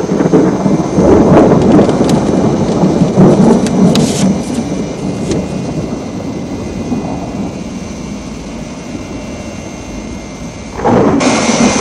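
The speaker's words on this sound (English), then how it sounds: "Storm likely to get any worse?" A loud thunderstorm pours heavy rain in a constant dense hiss, with rolling thunder rumbling through the first few seconds before the downpour continues alone.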